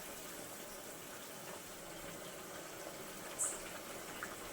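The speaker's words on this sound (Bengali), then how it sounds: "এখন আমি মাছগুলো ঝোলের মধ্যে দিয়ে দিচ্ছি।" Mirka fish slip into a simmering curry broth with a soft, steady, watery bubbling hiss that stays low and even, with one small splash near the end.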